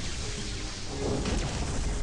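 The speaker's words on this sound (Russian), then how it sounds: "Ты видишь, да, он шмаляет молниями." Lightning mage tower in the mobile tower-defense game Realm Defense firing lightning bolts, a loud crackling rumble like thunder swelling in the second half over a steady noisy game backdrop.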